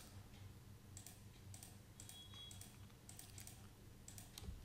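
Keys clack on a computer keyboard during AutoCAD 2D drafting, several faint, quick taps spaced irregularly over a low room hum, with Enter among the presses.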